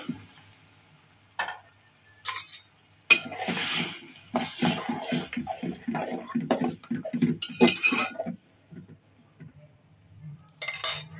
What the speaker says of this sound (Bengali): এখন আলুটা দিয়ে একটু কষাবো